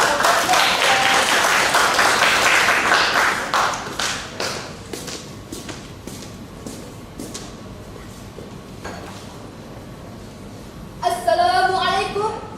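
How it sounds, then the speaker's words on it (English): Audience applause greets a girl contestant stepping onstage at a high school English speech competition final, dense clapping that thins into scattered claps and dies away, followed by a voice beginning to speak. "Let's give her a round of applause."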